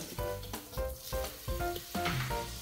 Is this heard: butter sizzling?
yes